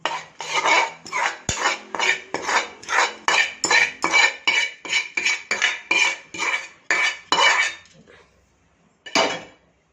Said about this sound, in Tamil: இப்போ மாவை நல்லா கலந்தாச்சு